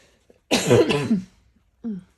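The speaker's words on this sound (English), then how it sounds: "I'm going to cough any second now." A single close, harsh cough burst, followed a moment later by a short second cough or throat clear.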